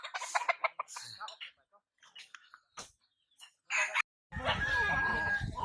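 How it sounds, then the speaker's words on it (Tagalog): Chickens clucking and a rooster crowing in a farmyard with goats and a dog, heard in short bursts amid people talking, then a louder, denser stretch of close clucking and squawking at the end. "Daming manok dito."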